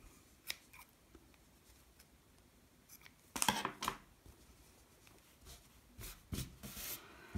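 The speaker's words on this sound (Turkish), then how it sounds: "Fazlalığı da kesiyorum." Scissors trim excess yarn from a crocheted owl appliqué, giving a few quiet, close snips with one sharper clustered cut in the middle, plus faint handling rustles and no talking.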